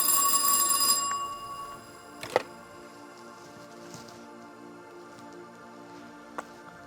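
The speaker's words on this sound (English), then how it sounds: "Somebody please answer that phone." An old-style telephone bell rings loudly for about a second, then fades into a quiet room broken by a couple of sharp knocks.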